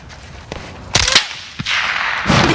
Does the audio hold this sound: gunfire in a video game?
yes